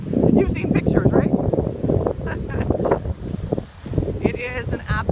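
Strong wind at South Beach, Miami, buffeting the microphone in a constant loud rumble near the ocean, with voices talking over it throughout.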